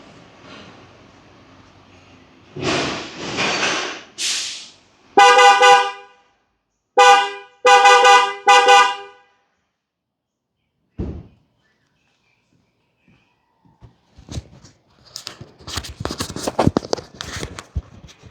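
Arena 3 aftermarket horn fitted to a BYD Shark pickup, sounded in several loud close honks: one long blast, then a cluster of short rhythmic toots, followed by a door thunk and rustling handling noise.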